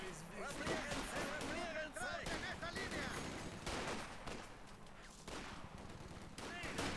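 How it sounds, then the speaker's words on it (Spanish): Dense, rapid gunfire exchange from the World War II strategy game Company of Heroes 2: overlapping machine-gun bursts and rifle shots crackle continuously at steady loudness, with in-game voices mixed into the battle noise. "intercambio de disparos"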